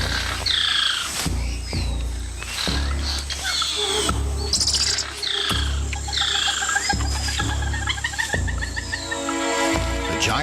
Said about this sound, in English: A squirrel monkey spots a harpy eagle and sounds the alarm, alerting everything in earshot.